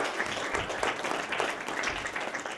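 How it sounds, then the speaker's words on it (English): An audience applauds at a panel event on climate change and global peace, a steady wash of clapping from many hands at moderate level, with no voices rising above it. "that definitely deserves a round of applause"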